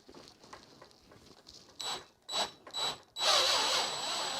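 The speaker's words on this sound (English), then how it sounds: "All right, so it's going to keep drilling down" A power drill fitted with an extractor bit grinds into an aluminum padlock. Light patter gives way to three short whining drill bursts, then a loud, sustained grinding run, all close up.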